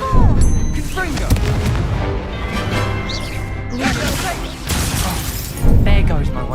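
A Confringo spell blast in Hogwarts Legacy bursts with loud explosive cracks and shattering over busy game music, with a voice calling out around the blasts.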